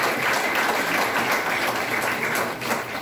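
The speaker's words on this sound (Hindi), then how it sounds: "जोरदार तालियां बजती रहनी चाहिए उनके कार्य के लिए." Sustained applause from an audience at a Kargil Day school ceremony honouring retired army soldiers, steady dense clapping throughout with no talk.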